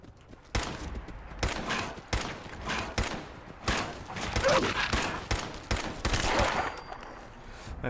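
Rifle gunfire from the Fallout 4 video game: a rapid string of loud, sharp shots in irregular bursts, some spaced apart and others clustered, with a low, steady background beneath them and no talking.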